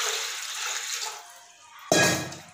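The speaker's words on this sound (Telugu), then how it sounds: "దీంట్లో కొంచెం నీళ్ళు పోస్తున్నా" Water poured into a large pot in a home kitchen while making junnu, a steady splashing stream that fades out, followed by a sudden louder gush of water near the end.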